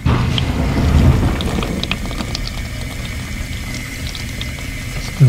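A newly installed dishwasher runs inside with sloshing, splashing water and a low rumble, fairly loud and steady, ending in a sudden louder thump.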